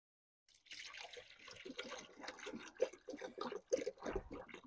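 Water trickles and splashes as it is poured into a car's cooling system, a close, uneven gurgling with irregular pulses that starts after a brief silence.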